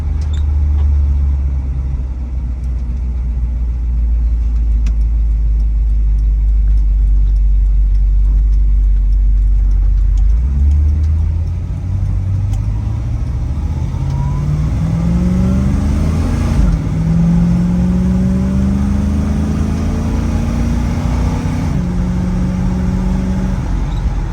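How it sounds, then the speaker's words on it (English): A 1967 Ford Mustang Fastback S-code 390 V8 with a manual gearbox drones steadily at cruise, then climbs and drops in pitch repeatedly as it shifts up through the gears, loud and close without talk. "There it was, shifting through all the gears in the transmission"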